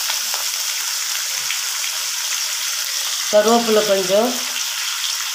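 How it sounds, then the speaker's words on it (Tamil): Onions, tomatoes, chana and urad dal, coriander and karpuravalli leaves sauté in a pan for a thovayal, giving a steady close sizzle throughout. Someone speaks briefly near the end over the frying. "போட்டு இது நல்லா வதங்கி வரட்டும்"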